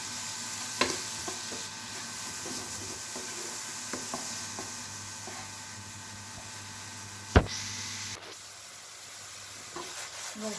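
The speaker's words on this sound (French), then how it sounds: "Donc nos ananas ont caramélisé" Pineapple pieces caramelize with island sugar in a hot pan, a soft, steady sizzle with occasional sharp clicks of a utensil against the pan, close and fairly quiet.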